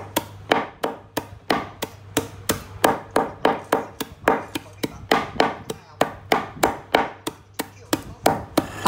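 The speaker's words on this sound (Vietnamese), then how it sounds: "Xả thì các bạn băm nhuyễn." Lemongrass being minced with a knife for homemade chili satay, a fast steady run of sharp, close chops on a cutting board, about three strokes a second with no pause and no voices.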